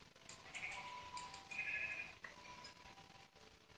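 A gray sheep bleats in Minecraft, a faint, quiet burst of wavering game bleats over a soft background hum.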